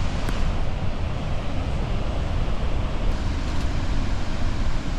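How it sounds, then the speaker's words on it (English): A broad, steady roar of rushing water fills the air without pause, deep and noisy like a large waterfall heard from some distance, on the approach walk to an African waterfall. "this is the walk along to the falls. We can already hear it."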